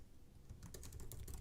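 Quick keystrokes on a computer keyboard, a run of light clicks in steady succession, faint and close with a low background hum and no talking.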